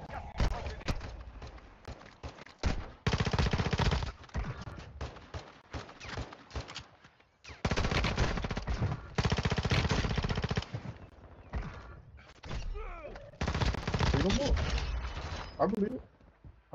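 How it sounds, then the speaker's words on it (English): Rapid gunfire in a shooter video game, loud sustained bursts broken by short pauses, with people talking between the volleys. "I gotta shoot them 12 times before they die."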